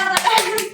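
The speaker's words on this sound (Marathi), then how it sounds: "मग आत्ती सगळ्यांना सांगत होती टाळ्या वाजवा." A few people clap their hands at a family naming-ceremony gathering, three quick separate claps close by, with a voice mixed in.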